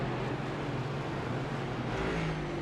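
A NASCAR Next Gen race car at Canadian Tire Motorsport Park runs out of fuel, its engine note a steady, loud broadband drone with a faintly uneven, sputtering quality throughout, no voices over it.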